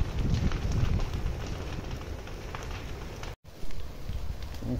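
A wildfire burning beside a roadside in the Pantanal wetlands gives a continuous loud crackling roar mixed with wind noise, a brief dropout partway through, and no one speaking.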